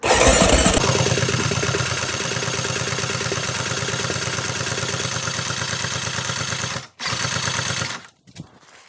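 A rebuilt 2001 Yamaha Grizzly 600 4x4 ATV engine catches with a loud burst and runs on choke and throttle in a steady, pulsing close-up chug. It briefly cuts out near the end, picks up again, then sputters and dies.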